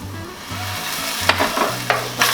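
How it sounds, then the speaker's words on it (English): Garlic, grated ginger and sherry sauté in a pan under a bright, close sizzle, with a few sharp spatula scrapes and stirs breaking through a low, repeating hum. "Gonna saute that for a few minutes."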